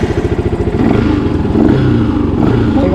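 A Yamaha R15 V2 motorcycle fitted with a K&N air filter revs loudly up close, its exhaust pulsing in a rapid throbbing rhythm that rises into a sustained roar.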